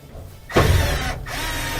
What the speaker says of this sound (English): going to remove these two Phillips head screws